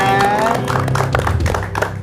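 A studio audience on a live Indonesian TV broadcast bursts into applause, dense clapping that comes in loud and close and holds steady for a couple of seconds.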